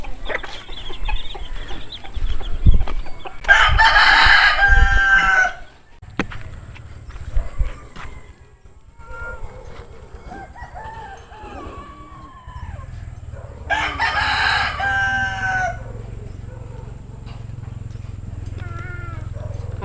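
Roosters crow loudly twice, long strained calls a few seconds apart, with hens clucking and chirping in between over a low background hum, no talking.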